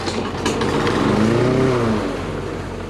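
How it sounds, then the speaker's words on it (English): A Troy-Bilt TB360 push mower engine starts up, with a brief rattle followed by a mid-pitched motor rising in a close, steady surge that then eases off slightly. "So I was trying to start the mower and it would start, but shortly after would die"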